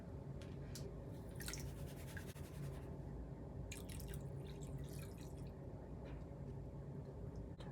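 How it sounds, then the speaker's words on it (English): Dark paydirt and water swirled in a gold pan, giving a steady close-up run of drips, splashes and gritty swishing with no talking. "let's pan it out and see what happens"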